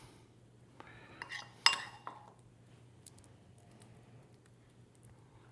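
A knife spreads avocado onto an English muffin, giving a short run of light clinks and scrapes against a plate, then a quiet kitchen stillness with a low steady hum.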